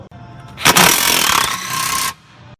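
A Bosch PS41 1/4-inch cordless impact driver runs in one loud, continuous burst of about a second and a half, with no impact hammering evident, then cuts off.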